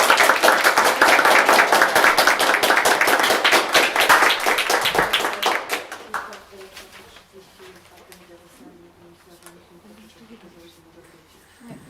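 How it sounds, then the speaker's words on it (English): A training session audience claps loudly for several seconds, then the applause fades out into quieter scattered sounds and low murmuring. "So let's give another applause."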